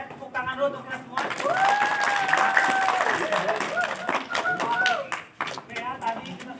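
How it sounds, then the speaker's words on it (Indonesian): A group claps together in applause during a basketball lesson, a burst of dense clapping lasting a couple of seconds with a whistle-like tone above it, while voices talk around it. "tepuk tangan dulu untuk kita semua"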